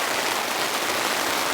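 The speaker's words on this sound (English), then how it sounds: "I think this rain has fully set in" Heavy, steady rain drums on a tent, a dense close hiss of countless drops with no pauses and no voices.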